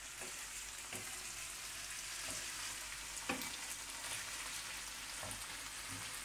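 Parsley fries over maximum heat with steady, dense sizzling in a hot pan, with occasional soft clicks and stirring scrapes, no talking.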